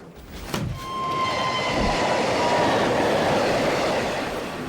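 Rumble of a passenger train running on rails: a steady, dense roar of wheels and carriage noise with a faint high squeal, constant and near throughout.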